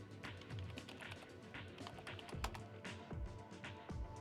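Rapid, uneven tapping of keys on a computer keyboard while entering a password, close and fairly quiet, with no talking.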